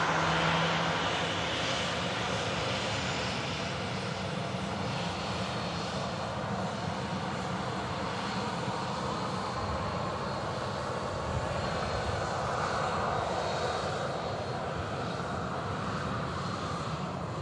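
An airliner vacates the runway at Manchester Airport with its thrust reversers closing and turns right to taxi toward Terminal 3, its engines giving a loud, steady, broadband roar that holds throughout with no voices.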